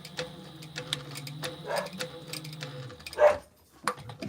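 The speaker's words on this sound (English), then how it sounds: "I'm gonna sew over this little corner here." A sewing machine stitching over the corner of a crossbody bag: a low motor hum with rapid ticking needle strokes runs for about three seconds, then stops, followed by a brief louder bump and quiet.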